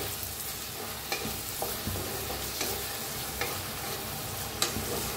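Chopped onion and tomatoes fry in a pan for a masala bhindi dish, giving a quiet, steady sizzle broken by occasional soft clicks of stirring. No voices are heard.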